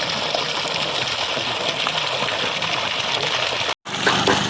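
Water gushing under pressure from the outlet of a 3000W BLDC borewell pump drawing from a 780-foot bore in a Dharmapuri village, a loud steady rushing flow that holds unbroken and alone, with one brief dropout near the end.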